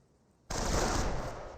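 Sudden, loud, sustained machine-gun fire in Company of Heroes, a dense continuous burst cutting down a medic on the battlefield.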